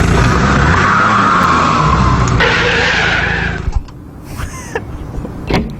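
A Honda Civic's tires skid loudly and continuously for several seconds, then the screech cuts off into quieter noise with a brief thump near the end.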